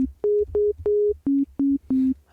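A pure, soft organ-like sine-wave synth tone from Serum plays six short sustained notes in a steady pattern, stepping from higher to lower pitch, with no voice.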